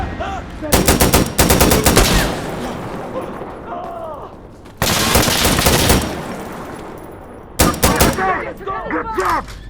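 Rapid bursts of automatic AK-47 fire in the shooter game Insurgency: Sandstorm, three loud sustained volleys with sharp echoing tails while voices call out between them.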